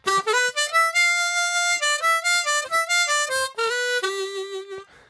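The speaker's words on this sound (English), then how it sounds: "Jonah Fox here, and I'm back today with another harmonica riff lesson." A C harmonica plays a smooth blues riff, clear and close, with bent and sustained chords in a rhythmic phrase running through the whole stretch with no voice over it.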